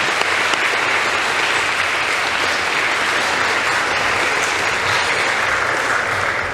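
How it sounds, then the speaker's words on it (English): Audience applause at a school fall athletic assembly: dense, sustained clapping from a large crowd in a hall, steady and loud throughout with no break. "So a big round of applause to all those people I mentioned"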